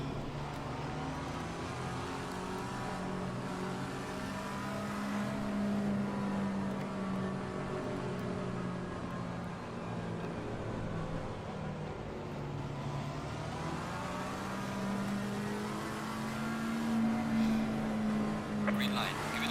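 Race car engine in Assetto Corsa Competizione at the Nürburgring, a steady droning note that rises and falls with shifts and revs throughout, under faint background talk.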